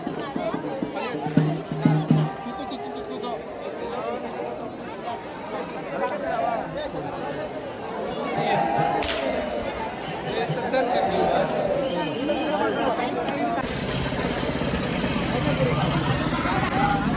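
Crowd of pilgrims at Tuljapur's Tulja Bhavani temple chattering in a dense, continuous murmur of many voices, with a nearby speaker talking over it.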